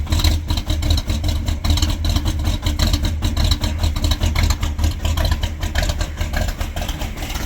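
1966 Ford LTD V8 idling cold, a loud, close, uneven lumpy rumble with steady rhythmic exhaust pulses that waver as the engine struggles to stay running.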